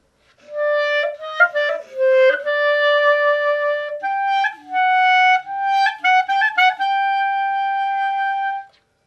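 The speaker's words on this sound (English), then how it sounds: "The krecht is like a little moan or sigh" A solo melodic instrument plays a mournful klezmer line, its notes bending and sobbing with krecht ornaments, small moaning catches and sighs between sustained tones.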